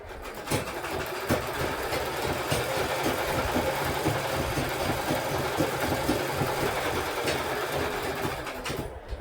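A household sewing machine stitches a fabric ironing board cover, a continuous rapid mechanical whir with a dense chattering rhythm, close and steady throughout, with no talk.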